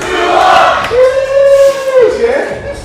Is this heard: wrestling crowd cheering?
yes